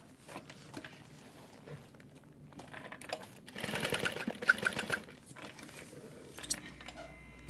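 A sewing machine basting fabric while making a Mini E bag, its stitching bursts running intermittently at moderate level, loudest in a busy stretch near the middle with quieter handling noises around it.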